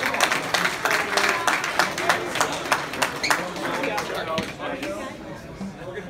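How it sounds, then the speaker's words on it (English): Crowd at an arm wrestling tournament claps for the competitors and referees, sharp uneven claps rising and then thinning out, with a voice talking over them. "let's give a big round of applause for all the competitors and the referees"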